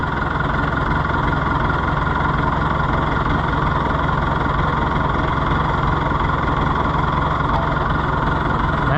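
Fiat Oliver 1365 tractor engine idling in gear with the PTO engaged, a loud, steady, low diesel drone with constant vibration and no break throughout.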